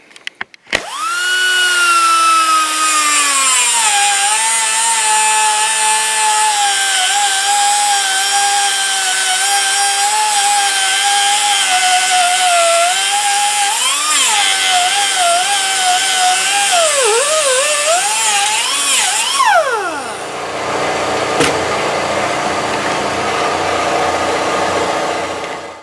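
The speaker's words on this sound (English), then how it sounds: "I just had to notch out the corner a little bit. I used my air cutter." An air cutter grinds a notch into the corner of a metal light bar bracket for an ATV, a loud steady high-pitched whine that holds for nearly twenty seconds, wavers briefly under load and then winds down, close up and alone.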